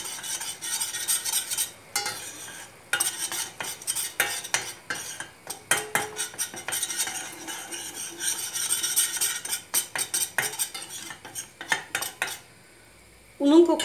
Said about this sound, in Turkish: Şimdi unumu güzelce kavuracağım.